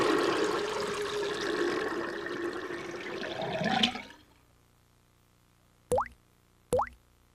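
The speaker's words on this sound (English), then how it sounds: "what really happens to the water after you flush the toilet?" A household toilet flushes in a loud rushing swirl for about four seconds, then cuts off abruptly into near silence, followed by two short separate plops or drips.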